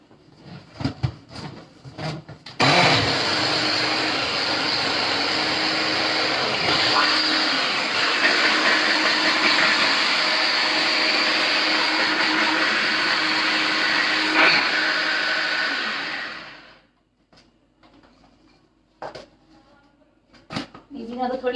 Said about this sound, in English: now we'll be blitzing it using our hand blender